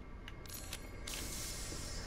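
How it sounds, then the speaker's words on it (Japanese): A soft hiss in Resident Evil Village sets in partway through and continues steadily under quiet game ambience, faint and with no talk over it. "なんかプシューって聞こえたな、これ。"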